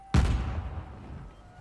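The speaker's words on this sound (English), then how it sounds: "I can wipe you out with this one grenade." A grenade blast in Uncharted 4, a single loud sudden boom with a sharp onset, followed by a rumbling decay that fades over about a second and a half.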